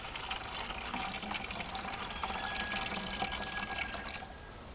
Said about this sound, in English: We can pour quicker.